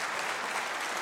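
Audience applause at a celebration honoring Rev. Howard and Diane Caesar, a brief, even burst of many hands clapping with no pauses.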